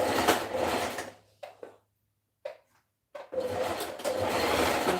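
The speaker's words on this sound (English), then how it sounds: "I'll be stitching half inch." A sewing machine stitches a half-inch seam for a two-piece top and skirt, running in two whirring bursts separated by quiet pauses with a few brief clicks between.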